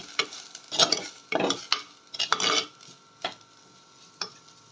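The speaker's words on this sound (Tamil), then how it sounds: "இது லேசாக வதக்கி விட்டுக்கிடுவோம்." Tomato sautéed with turmeric and curry powder in a pan for a Valapoo fish curry, stirred in a run of distinct, close scraping strokes over a soft, steady sizzle, with no talking.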